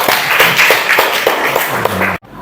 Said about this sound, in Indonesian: tepuk tangan untuk ketiga